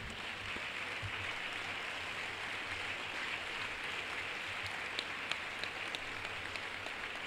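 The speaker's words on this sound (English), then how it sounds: "give these champions of ours, these students, a resounding round of applause, a standing ovation indeed" A seated audience gives a sustained burst of applause at a formal Independence Day awards ceremony honouring students, with dense, steady clapping that holds at an even level throughout and no voices.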